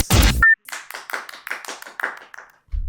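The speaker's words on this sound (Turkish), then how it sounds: "alkışım gittikçe azalıyor" A small audience claps in a sparse, slowing rhythm of about a dozen distinct hand claps after a loud burst, the applause thinning out until it nearly stops.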